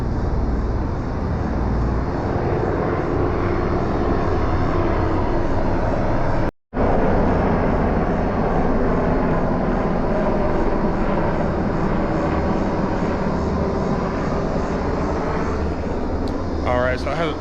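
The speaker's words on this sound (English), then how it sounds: "as the helicopters flew over just there" Loud, steady rotor and engine roar of helicopters passing overhead, filling the whole clip apart from a momentary dropout, with a voice faintly beneath.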